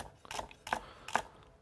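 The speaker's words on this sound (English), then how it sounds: "Using the rocking motion and holding the knife against our fingers, we're just going to slice some celery." A knife slices celery on a board with a rocking motion: three soft, evenly spaced crunching cuts, close and quiet, with no talking.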